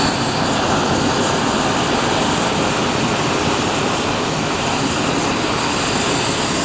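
Flaming mechanical Christmas tree running, a loud, constant roaring rush like a burner or engine, steady and unbroken for several seconds with no voices.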